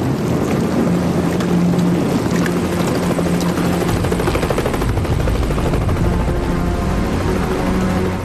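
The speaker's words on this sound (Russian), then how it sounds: "там вертолет!" A helicopter flies over the open sea near lifeboats, its rotor thudding and engine roaring loudly and steadily with heavy wind buffeting throughout.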